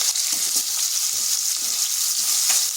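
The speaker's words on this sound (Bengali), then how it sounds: "এরপর আলুগুলো একটু লাল লাল করে ভেজে নিচ্ছি।" Long-cut potato strips fry in mustard oil with turmeric and salt, giving off a close, steady hissing sizzle with faint stirring knocks underneath.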